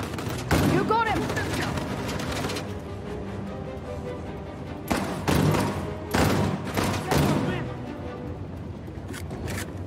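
Rapid gunfire in Uncharted: The Lost Legacy, loud bursts of shots near the start and again in the second half, with scattered single cracks between and in-game ambience underneath.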